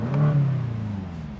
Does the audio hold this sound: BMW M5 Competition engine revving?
yes